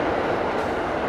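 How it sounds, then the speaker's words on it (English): A decorative train in Farming Simulator 22 rumbles past on a Swiss farm map, a loud, steady, broadband rolling roar that fills the whole moment with no speech. "that is the train. There it is."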